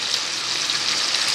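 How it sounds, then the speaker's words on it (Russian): Tilapia fish, cleaned and seasoned with salt and pepper, fries in a pan with a steady, even hiss of sizzling oil, close and continuous with no voices. "И вот оно жарится себе."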